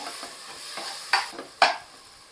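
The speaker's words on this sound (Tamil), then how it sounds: "ஒரு கப் புதினா இதையும் நம்ம எண்ணெயில் போட்டு வதக்க போகிறோம்" Mint leaves fry in oil with melting mutton fat for Dindigul mutton biryani, a soft sizzle under repeated stirring, with two sharper scraping clanks of the ladle against the pot near the end.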